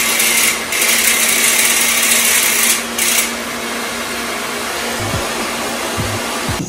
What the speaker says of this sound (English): So I do a blow dryer just to help speed up the process.